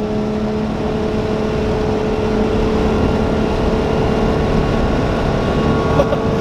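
A 1300-horsepower Nissan R35 GT-R runs hard during a pull, a loud, steady engine drone with constant road roar heard from inside the car, no clear rise in pitch across the stretch.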